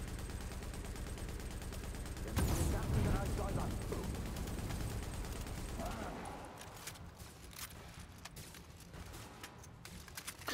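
Gunfire and grenade blasts in the shooter video game The Division, with a loud burst of fire and an explosion early, then sparser sharp shots and clicks over a steady game background.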